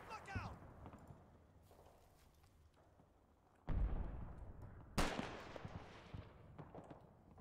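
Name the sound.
gunfire in the video game Combat Mission Battle for Normandy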